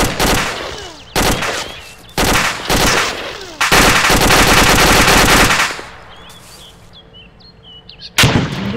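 Machine-gun bursts and rifle fire in the military shooter ArmA 2 with the ACE mod, several loud, sharp volleys separated by pauses, then faint birdsong and one final burst, with no talking.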